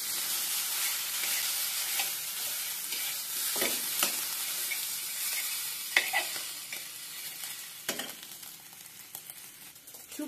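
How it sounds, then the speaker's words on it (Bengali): Fish roe frying in hot oil in a pan, a steady dense sizzle with scattered sharper pops and crackles throughout, close and fairly loud, easing slightly toward the end with no voices. "মাছের ডিমটাকে ভেজে নিচ্ছি।"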